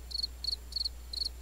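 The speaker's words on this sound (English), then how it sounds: "I don't know who hit the crickets" A cricket chirping sound effect plays during a tabletop role-playing game session: four crisp, shrill pulsing bursts evenly spaced over a steady low hum, with no one talking.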